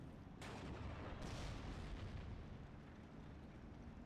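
Tank cannon fire in a tank battle game, with two heavy booming blasts a second apart that roll into a long, dense rumble of distant gunfire.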